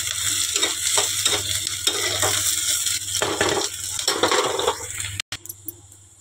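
Two halved potatoes frying in oil in a hot kadai, a steady close sizzle with brief stirring scrapes, and a short metallic clatter near the end.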